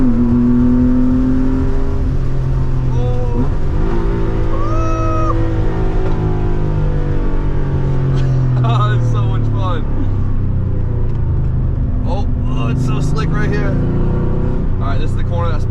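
A wide-body Porsche engine revs in a low, sustained roar as the car spins around in Ireland, loud and steady throughout, with people talking over it.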